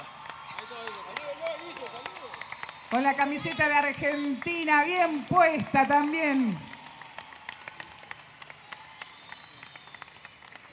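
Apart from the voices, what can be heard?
audience applause for a band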